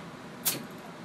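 A bottle of Dark Horse Brewing Reserve Special Black Ale is opened with a single brief, sharp hiss of escaping gas, alone over a faint background.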